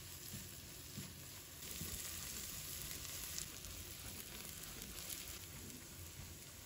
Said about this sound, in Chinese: 我们把葱姜蒜加进来，给它翻炒一下，把它们炒出蒜香味